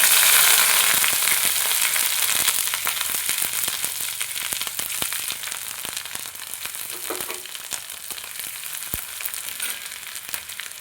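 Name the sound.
bay leaf, dried chili, asafoetida and ginger frying in oil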